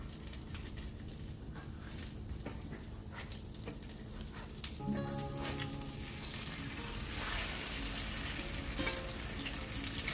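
Shrimp egg foo yung fries steadily in a pan, a continuous close sizzle with crackling pops that swells louder in the second half.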